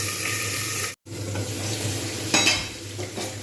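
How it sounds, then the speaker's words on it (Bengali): Potato pieces fry in oil in a pan for a Bengali potato and peas curry, making a steady, close sizzle with a brief break and a few louder spits. No one speaks. "এটা কিন্তু লালচে করে ভাজবো খুব ভালোভাবে"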